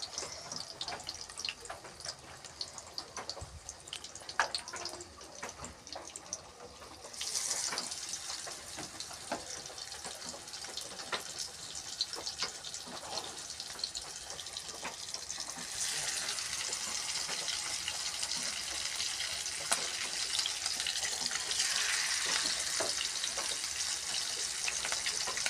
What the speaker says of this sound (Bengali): মাছ ভাজার লেগা হলদি লবণ দিয়া লুছি, আর দিয়ে এখন মাছটি ভাজবো।